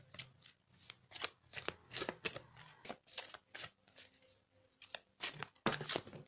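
Tarot cards being shuffled and drawn, a run of crisp riffling and snapping bursts that rise and fall in close, moderately loud clusters with brief pauses between them.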